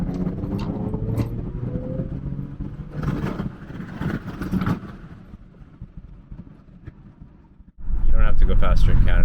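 2015 Porsche Macan S in sport mode with paddle shifters, engine surging and fading in bursts of acceleration, dropping off briefly before a loud renewed pull at the end.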